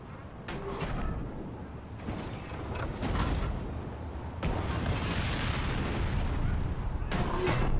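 Ship cannons fire in the pirate video game Skull and Bones, sharp booming blasts at irregular intervals over creaking wooden hull and mechanical background noise.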